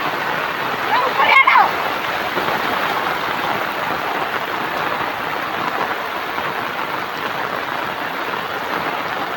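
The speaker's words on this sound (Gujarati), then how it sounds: "તો મિત્રો જોઈ લો કેટલું બધું પાણી આવે." Heavy rain pours steadily in a village while floodwater rushes toward a river, a dense continuous wash close by, with a brief louder burst near the start.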